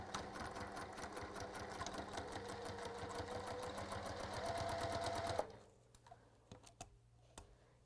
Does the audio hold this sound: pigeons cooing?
no